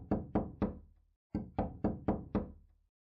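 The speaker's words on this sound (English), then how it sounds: "I hear someone banging on my door." A door banged in the game LUCY -The Eternity She Wished For-: three firm, evenly spaced knocks, a brief pause, then five more heavy thuds, loud and close with no talking.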